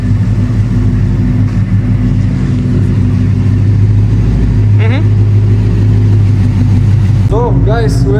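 A crash-damaged Ford Mustang GT undergoing a rebuild runs with a loud, steady engine hum up close, while people talk over it and brief rising tones break through near the end.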